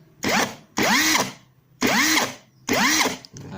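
A Nagawa NCI350U 350 Nm brushless electric impact wrench loosening a nut fires in four short bursts, each a loud whirring hammer with a rising-and-falling motor whine, separated by brief quiet gaps, close up.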